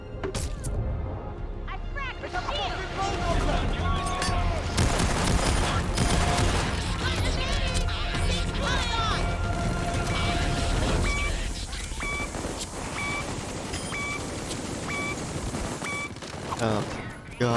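Dense gunfire in the video game Payday 2, rapid bursts and volleys over a busy game soundscape with electronic beeps, while a player talks throughout.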